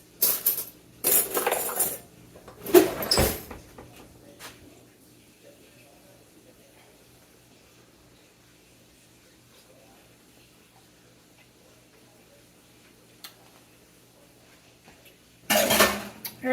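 Metal spoon clinking and scraping against pots and dishes in a home kitchen while cooking Italian shells and cheese, a few loud clattering bursts at the start and one at the end, separated by a long quiet stretch.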